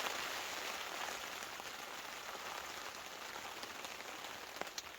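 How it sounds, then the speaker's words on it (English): Heavy rain drums steadily on a taut hot-tent surface during winter wild camping in Scotland, a dense hiss with scattered louder drops popping through, constant and close with no voices. "I don't know if you can hear that rain"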